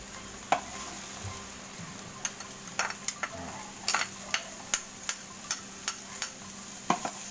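Garlic and onion sizzle steadily in a hot pan while a utensil scrapes and taps the pan in a regular rhythm, about a dozen clicks, close up with no talk.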